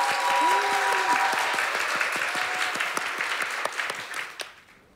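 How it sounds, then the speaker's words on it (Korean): An open-mic street audience breaks into warm applause before a song, many hands clapping close by, then the claps thin into scattered individual strikes and stop abruptly. "그럼 박수로 청할까요?"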